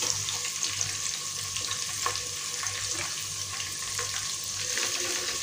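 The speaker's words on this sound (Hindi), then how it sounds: "गोल्डन कलर होने तक हम फ्राई करेंगे।" Finely chopped onion and green chilies frying in oil in a pan, a dense, steady, crackling sizzle held at an even level from start to finish, close and uninterrupted.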